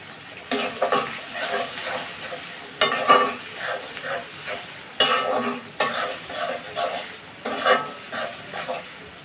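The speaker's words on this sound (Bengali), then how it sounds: "পেঁয়াজ আর রসুনের সাথে চিংড়ি মাছটাও ভেজে নেব।" Shrimp frying with onion and garlic in a pan, a steady sizzle broken by repeated rhythmic stirring scrapes and occasional sharp clinks of a utensil against the pan, close and moderately loud.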